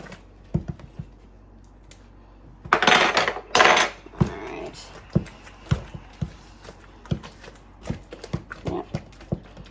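A spoon scrapes and clinks against a bowl as ingredients are mixed with butter, giving irregular tapping knocks close by with a brief burst of louder scraping partway through.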